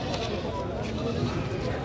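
Goat bleats rise amid a busy Sunday pet market crowded with livestock, animal calls mixing into steady chatter and background noise.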